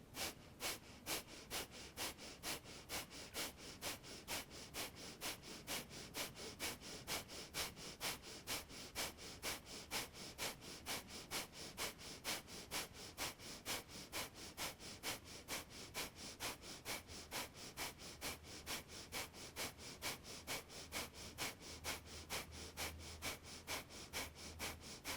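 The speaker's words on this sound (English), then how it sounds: "breathe in halfway, and begin breath of fire" Breath of fire in a yoga class: rapid rhythmic pumping exhalations through the nose, close and steady at about two per second, continuing evenly without a break, no voices.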